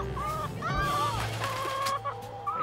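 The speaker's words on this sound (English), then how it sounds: "Meet the Royal Chooks of Baxter." Backyard chooks on a rural property at Baxter cluck close by in short, rising and falling calls that overlap, with a low rumble of background noise.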